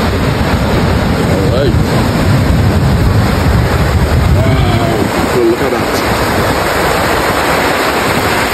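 Waves breaking and rushing on the shore at Maracas Bay, a steady loud surf roar with heavy wind buffeting the microphone and someone talking over it.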